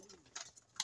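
Pigeons in a fancier's loft give a soft, low coo under faint scattered clicks and ticks, quiet and brief.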